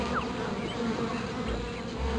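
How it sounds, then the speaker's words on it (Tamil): Dense buzzing of many cartoon bees humming close by, a constant droning swarm with no voices. "இதுலயும் நிறைய தேனீகள் இருக்கு"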